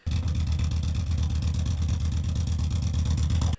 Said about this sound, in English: You're just not going to get that sound that the Harley-Davidson makes.